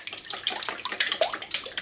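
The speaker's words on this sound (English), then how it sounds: "using our whisk, we're just going to break those eggs and then whisk this together until smooth" A whisk beats eggs in a bowl, making quick, irregular wet clicks and splashy taps, close and brief with no voices.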